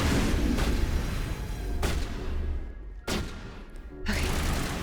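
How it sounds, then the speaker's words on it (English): Shotgun blasts from the video game Mass Effect, four heavy booming shots spaced about a second apart, loud and close with a dense rumbling tail, no talk over them. "Yes, I can with my shotgun."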